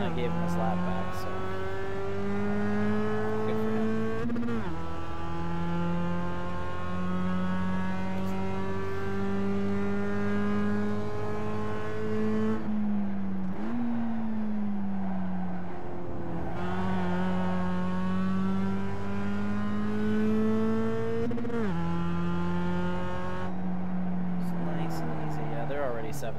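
A Mazda MX-5 Cup race car in the iRacing sim at Summit Point Raceway's Jefferson Course Reverse, its engine droning and climbing through the gears, dipping briefly at shifts and lifts, with someone talking throughout.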